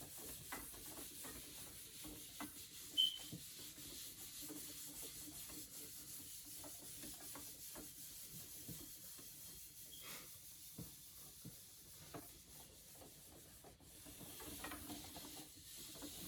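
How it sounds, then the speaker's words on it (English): Soft, steady rubbing and hissing swipes of a cloth across a tabletop, continuous and close, with occasional light knocks and no voices. "I'm going to wipe down the tabletop for a full 30"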